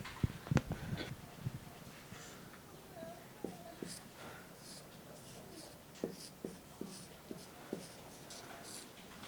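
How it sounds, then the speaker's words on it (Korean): Chinese characters are written by hand, with faint, close pen or brush strokes on paper in short, irregular scratches and taps, loudest near the start and spaced out later, in a quiet room. "그래서 온유라는 한자를 먼저 써볼게요."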